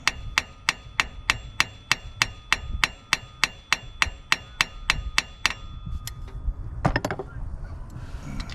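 Hammer blows jar loose a bolt on a stripped 7.3 diesel engine, about twenty sharp metallic strikes in a fast even rhythm, followed by a few scattered clanks and shuffling.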